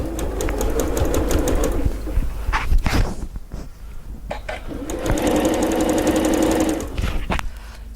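A sewing machine stitches a project bag in two loud, steady mechanical runs with a short pause between them, and a few brief clicks sound during the break.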